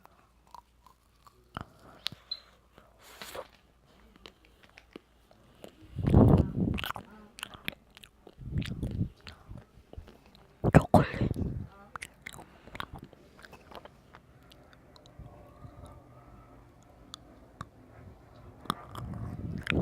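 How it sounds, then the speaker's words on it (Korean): Close, intermittent biting and chewing of food during a Korean mukbang, with moist crunchy bursts spaced between quieter stretches and no talking. "본론으로 돌아와서 다시 먹방 시작할게요."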